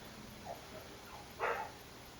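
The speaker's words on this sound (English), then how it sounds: "there's a dog in the street that's shouting at people" A dog out in the street barking at people, heard as a few faint, distant yips and one slightly stronger bark against a quiet background.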